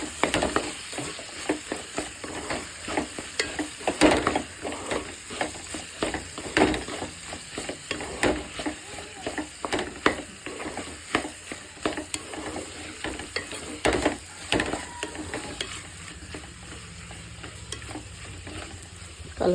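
A spoon stirs ginger into a bottle gourd and milk curry in a pan, with continuous scraping and clattering strokes over a steady sizzle, close and fairly loud with no voices.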